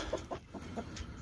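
Backyard chickens cluck in a short, close burst of several quick clucks, with no talking over them.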